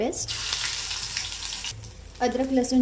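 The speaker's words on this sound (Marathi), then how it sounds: "आता इथे मी कढईमध्ये छोट्या तेल तापत ठेवलं होतं. ह्याच्यात मी जिरं टाकते, अद्रक लसूणची" Cumin and ginger-garlic paste fry in hot oil in a small kadhai, a loud steady sizzle that briefly dips and then flares up again as the paste is stirred.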